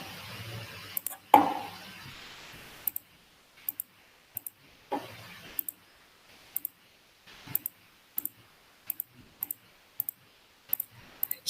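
A computer mouse clicks repeatedly while points are placed with a polygonal lasso in digital drawing software, about a dozen crisp, close clicks at a steady, unhurried pace after a brief rustle at the start.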